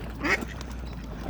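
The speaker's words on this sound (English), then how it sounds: "I'm going to feed the ducks." Ducks quack in a short burst near the start of the feeding, with one more faint call near the end over steady outdoor background noise.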